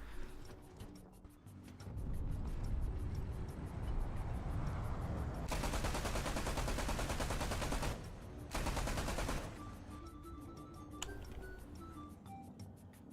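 Anti-aircraft guns fire at jets in the War Thunder video game: loud, sustained bursts of rapid automatic gunfire in two long volleys, followed by quieter mechanical clinks and tones.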